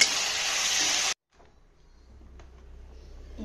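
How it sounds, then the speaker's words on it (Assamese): Brinjal frying in a pan gives a loud, close hissing sizzle for about a second that cuts off abruptly, followed by quiet low background with faint clinks. "বেঙেনা ভাজিছোঁ"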